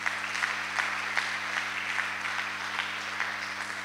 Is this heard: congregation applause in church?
yes